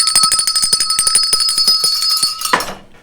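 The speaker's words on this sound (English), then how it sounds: "Give me a bell." A bell rung rapidly and repeatedly, a loud bright clanging with sustained ringing tones, ending in a final stroke that fades out.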